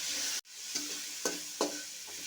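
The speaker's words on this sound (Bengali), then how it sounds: "ভালো করে একটু ভাজা ভাজা করে নিচ্ছি।" Potatoes and onions frying with turmeric powder in a pan: a gentle, even sizzle with a brief dropout near the start, then a series of rhythmic spatula scrapes across the pan.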